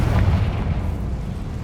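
A single deep, rumbling blast from the Bombarda spell in the video game Hogwarts Legacy, loud and sustained across a short moment, with no speech over it.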